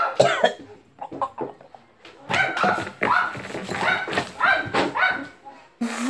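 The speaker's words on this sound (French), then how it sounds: "Oh, le chien," A dog barks and yips repeatedly in bursts, close and fairly loud, in a home setting with some whimpering between the barks.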